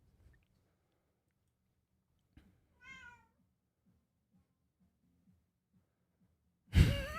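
A single drawn-out cat meow, clear and fairly close, sounds in an otherwise quiet room with faint low rumbling, followed by a sudden loud burst of noise at the end.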